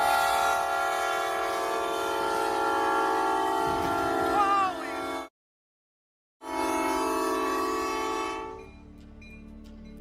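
Train sounding a long, loud, sustained horn as it approaches, cutting off abruptly, then blaring again before fading out.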